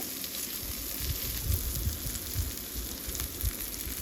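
Small shallots sizzling in hot tempering oil with mustard seeds, curry leaves and dried red chillies, a soft steady hiss with faint crackles, low in level and heard alone.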